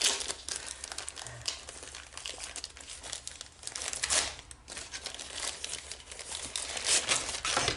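Plastic packaging crinkling and crumpling as a box holding a small diamond-studded Santa Claus figure is opened, continuous close rustling with a few sharper crackles throughout.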